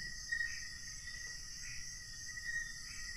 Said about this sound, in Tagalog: Maliban sa kuliglig.